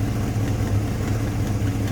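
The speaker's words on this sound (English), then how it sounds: "I have a touch of an exhaust leak there." A 1956 Chevrolet Bel Air two-door post with a 327 V8 idles steadily with a deep, low rumble, and a slight exhaust manifold leak on one side adds to the sound. It is close and continuous, and no one speaks.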